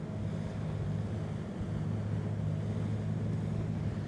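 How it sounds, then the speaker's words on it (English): Twin engines of an AQA 35 speedboat held at 2000 RPM, a steady low droning hum with a layer of water and wind rush, constant and close with no talking. "In the meantime, I've brought the engines to 2000 RPM."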